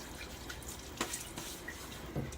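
Cold hard water from a tap splashes on a face before a wet shave, with soft dripping and a few splashes over a steady running-water hiss.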